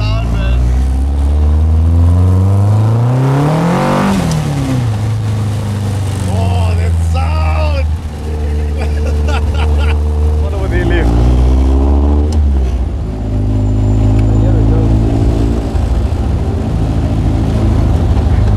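A Lotus 7 engine with individual throttle bodies revs loudly and close up, its pitch climbing and falling through repeated bursts of acceleration, with excited voices talking over it.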